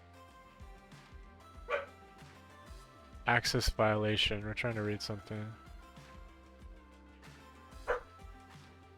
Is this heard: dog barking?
yes